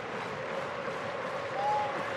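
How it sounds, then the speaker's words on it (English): A modest crowd of about eight thousand at Sky Stadium fills the air during an A-League football match between Wellington Phoenix and Brisbane Roar. The applause and crowd murmur are steady and distant, and a faint whistle-like tone sounds once. "Decent crowd here at Sky Stadium over the Easter weekend"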